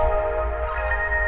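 A synth lead from a Prophet 5 in Analog Lab 4 holds a bright sustained tone that shifts pitch once, over a low bass bed, brief and up close.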